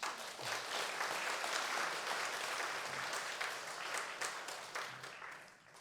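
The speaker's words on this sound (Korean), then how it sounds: "그분들 다시 한번 우리 박수로 축하하겠습니다" Congregation applause in a church Sunday service, a steady dense wash of many hands clapping across the whole stretch, moderately distant and fading slightly at the end, with no talk over it.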